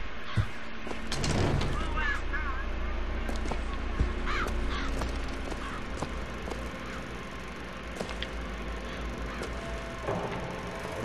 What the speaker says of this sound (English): With all the crows.